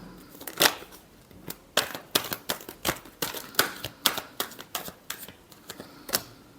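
Tarot cards being shuffled by hand, a series of crisp irregular riffling snaps and slaps, close and fairly quiet, spaced through the moment with no talking.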